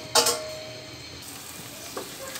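Chopped onion sizzles in oil in a pot, with a brief burst of frying and stirring near the start and a smaller one near the end, fairly close and moderately quiet.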